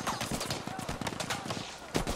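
Rifle gunfire in a video game crackles in a rapid string of sharp shots, dense and steady, then a final louder crack near the end.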